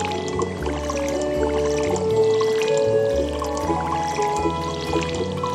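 Watering crop plots with a watering can in the video game Stardew Valley: soft splashing pour sounds repeat over steady, tuneful background game music, fairly loud and with no talking.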